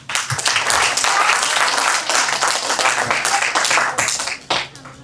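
Audience applause at a school alphabet celebration ceremony as a child's name is called, a loud, sustained wave of clapping from many hands that fades out near the end.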